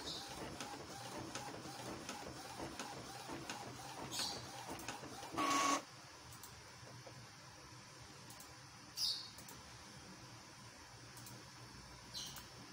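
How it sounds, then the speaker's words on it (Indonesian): A fast Epson T30 inkjet printer loaded with double black ink runs a print job, a steady faint mechanical whir with a few brief louder clicks and carriage bursts throughout. "Jadi itu printer yang cepat, salah satu printer yang saya suka pada zaman itu."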